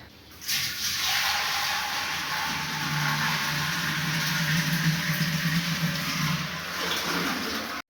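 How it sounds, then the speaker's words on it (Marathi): Water running steadily into a clay pot at home, a continuous gushing pour close by that holds at an even level throughout without any talking. "आता घेते पाणी भरून"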